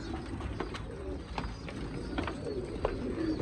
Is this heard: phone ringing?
no